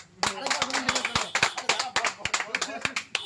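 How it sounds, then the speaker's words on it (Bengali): A renewed round of hand clapping for the winner of a sweet-eating food challenge, a string of crisp, fairly loud claps at an irregular pace with people talking amid the noise. "একটু জোরে হাততালি আরেকবার"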